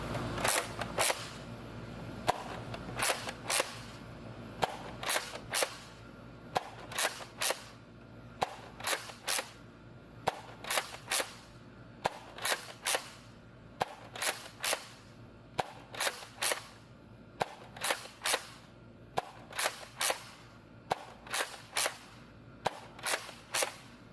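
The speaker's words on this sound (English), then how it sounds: "we're going to fire it over to chrono with our K26" A Rival Hades toy blaster fires over a chronograph, around twenty sharp, close cracking shots spaced evenly a second or so apart over a quiet background.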